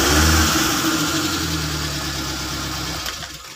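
A car engine runs loudly just after being started, an initial surge settling into a steady idle before a brief bump near the end.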